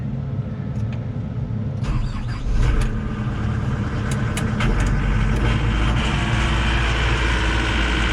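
A Sany SY-95 excavator engine starts up, becoming a loud, steady diesel rumble that swells after a couple of seconds and keeps running close by with no talk.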